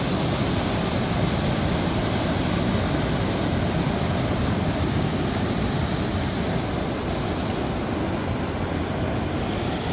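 Steady, loud roar of rushing water from a waterfall near Champéry, Switzerland, a constant broadband wash heard nearby, with no pauses or voices.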